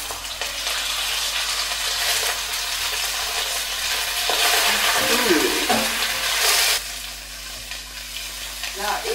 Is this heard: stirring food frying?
yes